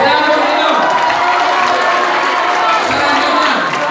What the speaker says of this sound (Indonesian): Tepuk tangan buat Rido.